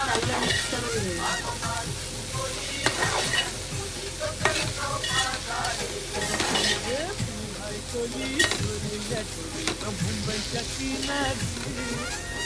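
Homemade red chili masala is being stirred through a frying mixture in a pan, with a steady sizzle and repeated spoon scrapes. The sounds stay close and moderately loud, and faint voices come through now and then.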